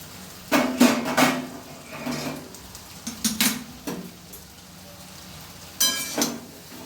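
Lid lifted off a cooking pot of okra being cooked with spices, a few sharp metallic clanks and clatters near the mic, then a quieter pause and one more clank, over a faint background sizzle.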